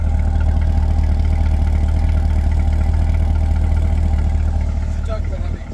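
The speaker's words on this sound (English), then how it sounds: "So this is what it sounds like on startup." A 2021 Chevrolet C8 Corvette engine idles just after startup with a deep, steady low rumble and slight burble, continuous and close, fading a little at the end.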